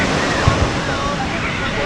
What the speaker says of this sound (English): but got some big California waves